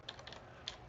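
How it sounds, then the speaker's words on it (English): Quick clicks of a computer keyboard being typed on, a few soft keystrokes close to the microphone at low volume with no talk. "just typing in my Twitch"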